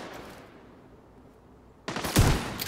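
Gunfire in the video game The Division 2: after a quiet stretch, a sudden close, loud burst of rapid automatic shots near the end.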